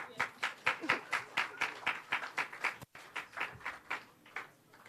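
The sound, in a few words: audience applause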